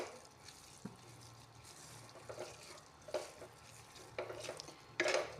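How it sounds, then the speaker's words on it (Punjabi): Sugar being stirred into a milk cake mixture made from rotis in a pan, with soft scraping and swishing strokes at irregular intervals and a few louder scrapes near the end, no voices. "ਇਹਨੂੰ ਹੁਣ ਆਪਾਂ ਚੰਗੀ ਤਰ੍ਹਾਂ ਨਾਲ ਮਿਕਸ ਕਰ ਦਿੰਨੇ ਆ"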